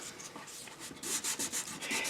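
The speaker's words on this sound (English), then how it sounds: "Problem with sanding on the lathe, on my lathe only goes in one direction." Sandpaper rubs against a spinning 12-inch yellow birch bowl on a lathe, a steady close scratchy hiss that swells into stronger abrasive strokes partway through.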